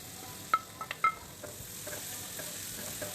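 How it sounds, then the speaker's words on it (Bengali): Green chillies and capsicum lightly frying in a pan, a faint soft sizzle with a few sharp clicks of the spoon near the start, quiet and without speech. "আর দিয়ে দিলাম ক্যাপসিকামগুলো হালকা হালকা করেই আমি ভেজে নেব, খুব একটা কিন্তু ভাজবো না।"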